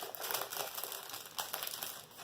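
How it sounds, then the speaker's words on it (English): Plastic packaging of a cross-stitch kit crinkles close by, a quiet irregular rustle with a few sharper bursts. "Sorry, crinkling."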